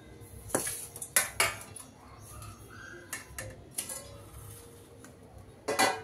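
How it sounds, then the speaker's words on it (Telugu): A plate is lifted from among dishes and cutlery in a home kitchen while making kala jamun, giving several sharp, close clinks and clatters spread irregularly over a few seconds with quieter handling noise between. "ఒక ప్లేట్ తీసుకుందాం."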